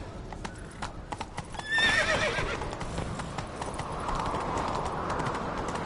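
Rhythmic hoofbeats of a galloping horse in the video game The Witcher 3: Wild Hunt, with a sharp neigh partway through, close and loud.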